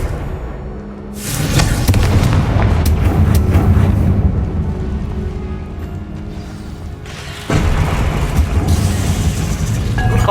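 Confringo blast spells detonate in Hogwarts Legacy, producing loud, dense rumbling bursts with mechanical clatter that sustain for several seconds, drop briefly, then surge again in a second heavy blast near the end.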